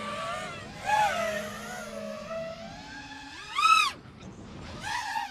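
GEPRC Mark5 freestyle quadcopter with 2208 motors at high throttle: a loud, close, harmonic propeller whine that sweeps up and down in pitch, with sharp surges near the start, middle and end.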